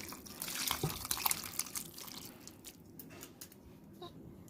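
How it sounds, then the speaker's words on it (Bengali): Fish curry with papaya and potato is poured from a pot into a bowl, giving a soft, continuous liquid splashing and trickling, loudest in the first half and tapering off, with no voices. "এবার আমি ঝোলটা ঢেলে দেব এই বাটির মধ্যে"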